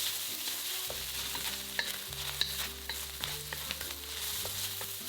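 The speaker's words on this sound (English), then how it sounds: "In a wok over high heat, add the pork and stir fry until completely cooked." Pork being stir-fried in a wok over high heat, with a soft, continuous sizzle and repeated scraping and tapping from a spatula stirring the meat, with no talking.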